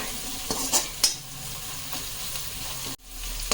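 Onions frying in a pan for a fish curry, a quiet steady sizzle with a few sharp stirring clinks early on and a brief cut near the end, close and soft.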